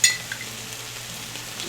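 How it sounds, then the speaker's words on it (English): Chopped ham frying in barbecue sauce in a hot pan gives a steady, close hiss of sizzling, with a brief sharper crackle at the start and a faint stir partway through; no one speaks. "once it starts sizzling and it gets all nice and happy"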